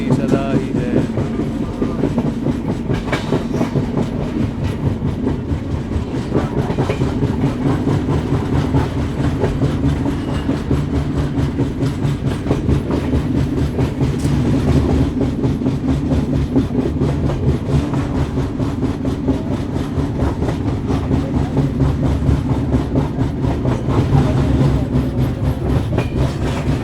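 The Uttar Sampark Kranti train (12445) approaching Shri Mata Vaishno Devi Katra railway station, heard from onboard as a loud continuous rumble with steady clickety-clack of wheels over rail joints throughout.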